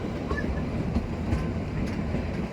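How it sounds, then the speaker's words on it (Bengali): Kalka-Shimla toy train running on the mountain line, a steady rumbling rolling noise close by with no talk. "এই দেখুন আমাদের টয় ট্রেন"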